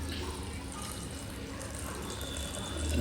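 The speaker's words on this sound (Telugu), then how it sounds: "నీళ్లు పోసి" Water is poured over washed sago pearls in a bowl for halwa, a soft continuous trickle and fill sound, quiet and close, with no talking.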